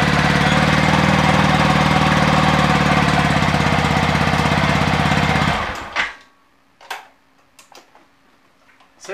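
A Lem Motor AD 125 two-stroke motorcycle engine runs loud and close with a fast, steady buzzing rattle for several seconds, then cuts off abruptly, leaving a few faint clicks and knocks.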